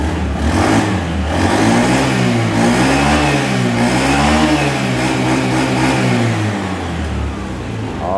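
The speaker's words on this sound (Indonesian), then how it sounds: "Kita coba gas sekarang." A motorcycle engine revs up steadily and holds a loud, continuous, rising-and-falling drone for about eight seconds, tested right after its drive belt was replaced.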